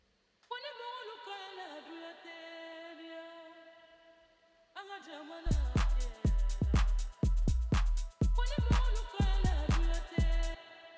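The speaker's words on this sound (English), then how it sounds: "there is a lot of reverb in the voice, William" A sung voice washed in long, heavy reverb trails, first alone and sustained, then joined by loud punchy Afro house drum hits in a steady rhythm.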